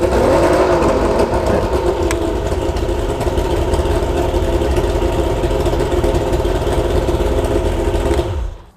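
Engine of a Bass Cat bass boat under restoration running at idle, a loud, steady, close droning hum with even rhythm throughout, cutting off at the very end, with no talk.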